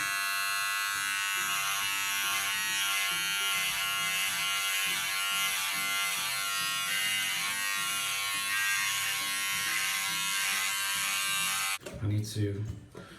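Electric razor trimming facial hair along the initial line, a steady close buzzing drone that runs continuously before cutting off abruptly into a brief clatter near the end.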